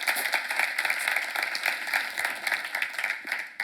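A church seminar audience gives steady applause, a dense continuous patter of many hands at moderate loudness filling the moment without speech.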